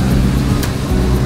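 A car moves past and pulls over to the side of the road, a close, steady engine drone that runs the whole moment without speech.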